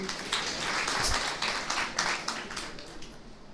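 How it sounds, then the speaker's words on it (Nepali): An audience at a talk bursts into applause: dense, fairly even clapping from many hands that continues for several seconds with no voices over it. "अब यसमा ताली बजाउनुहोस्।"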